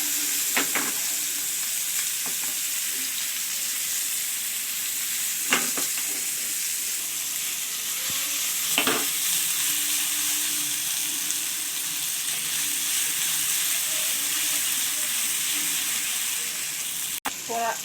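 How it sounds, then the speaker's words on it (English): Vanjaram fish frying in hot oil in a pan, a steady loud sizzle running throughout, broken by a few soft taps and clinks of a utensil. "For a minute I have fried the fish."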